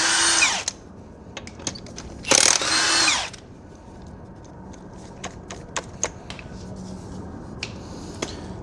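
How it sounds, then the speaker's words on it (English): A power tool on the lug nut of a Nissan Rogue car wheel gives two loud, short whirring bursts near the start, followed by scattered light clicks and taps in a quiet garage. "Remove the lug nut."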